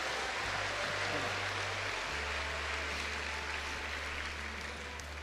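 Clapping from a church congregation as a dense, steady wash of applause that holds at a constant level for several seconds, with a low hum underneath.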